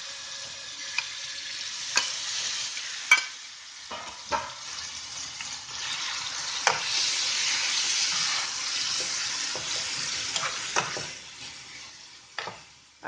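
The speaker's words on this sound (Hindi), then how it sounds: "ऑयल गर्म होने पर अब इसमें मैरिनेट किया हुआ चिकन डाल देना है।" Marinated chicken fries in hot oil in a pan, a steady close hiss and sizzle with occasional clinks and stirring scrapes throughout, no voices.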